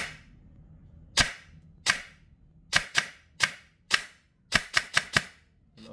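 An airsoft gun fitted with a brushless motor and DTU V2 fires about a dozen sharp, close single shots during a 0.2 BB chronograph test, irregularly spaced and snapping loudly against near silence.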